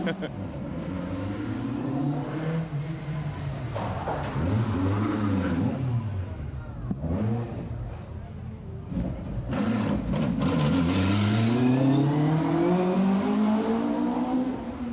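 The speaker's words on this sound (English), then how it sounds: "Jeff Glover and Keith Barker in the rear-wheel drive Mark III Escort" A rear-wheel-drive Mark III Ford Escort rally car revs hard and shifts through gears as it races past on an asphalt rally stage, rising and falling in pitch, with a voice talking over it.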